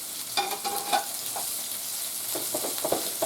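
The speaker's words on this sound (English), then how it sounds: "You're searing the meat." Hamburger slider meat sears in a hot pan with a steady close sizzle and crackle, punctuated by a few faint clinks.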